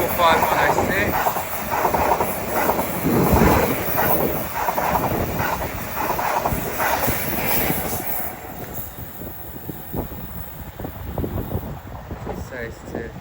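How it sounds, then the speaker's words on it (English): Greater Anglia electric train pulling into Shenfield station on the Great Eastern Main Line, with rumbling wheels, rhythmic rail clatter and faint squeal that are loudest early and then ease off, while a voice talks over it. "Service to Liverpool Street comes in."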